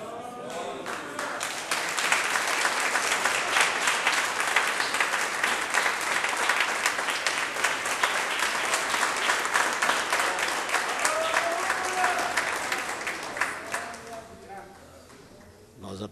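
A church congregation at a Friday evening service in Anápolis, Brazil, bursts into sustained loud applause for about twelve seconds before it thins and fades out.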